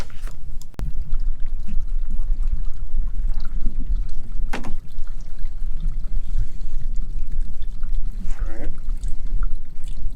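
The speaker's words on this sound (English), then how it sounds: "I'm going to go turn the water on, and we're going to watch this thing fill up" Water pours steadily into a tank at a boondocking campsite, a constant trickling rush close by with a few knocks and a voice speaking over it.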